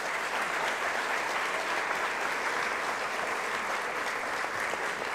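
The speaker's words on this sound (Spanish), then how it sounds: "un fuerte aplauso para nuestros jueces y autores de problema" A large audience applauds the judges and problem authors at the ICPC Latin America Championship closing ceremony, a dense, continuous roar of clapping that stays loud and even throughout.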